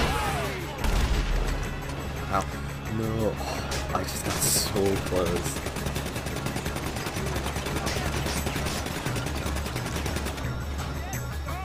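Bursts of gunfire and rapid automatic shots crackle throughout a GTA V Online free-mode survival match, with players talking over the shooting.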